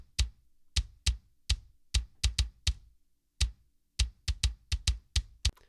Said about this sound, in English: So all three of these kicks together kind of sound like this.